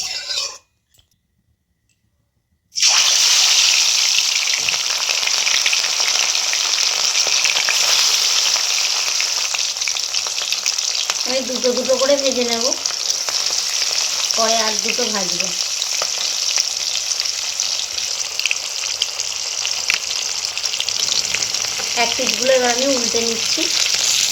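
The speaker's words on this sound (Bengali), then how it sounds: "তেলটা গরম হয়ে গেছে এবার আমি এর মধ্যে মাছগুলো দিয়ে দেবো" Rohu fish pieces fry in plenty of hot mustard oil, a loud, dense, continuous sizzle that starts abruptly after a brief quiet moment, with a few faint voice fragments under it.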